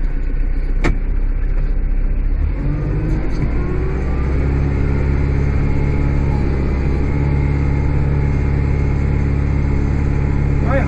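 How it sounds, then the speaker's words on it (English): A Kubota 5740 tractor fitted with a rear snowblower runs nearby with a steady, loud diesel rumble and a low throb throughout, with a faint brief click near the start. "you are aboard of a Kubota 5740 with the snowblower on the back."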